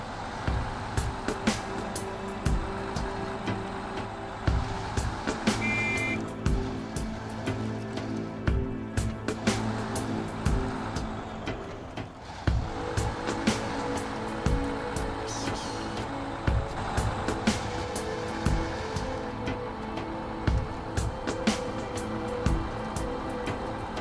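A heavy truck in SnowRunner on the Kola Peninsula grinds along a rough dirt road with a steady, dense engine drone and rattling, bumping noises running throughout, with no talk.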